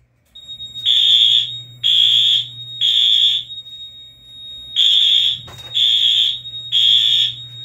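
A fire alarm sounds during a test, giving six loud, shrill electronic horn blasts in a steady pulsing rhythm with short gaps between them. A low hum runs underneath, and a brief click comes midway.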